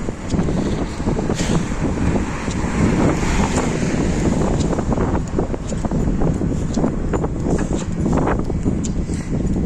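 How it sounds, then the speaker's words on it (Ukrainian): A strong wind in Cape Verde roars without letup, rumbling and buffeting close to the microphone, with faint clicks and knocks scattered through. "тут дуже сильні вітри, може вітер трошки заважає"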